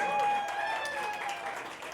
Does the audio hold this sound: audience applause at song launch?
yes